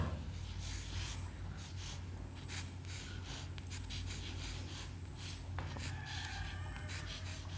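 A pen writes on paper during a basic English vocabulary lesson, soft continuous scratching strokes, close and quiet, with brief pauses between words and a faint hum behind.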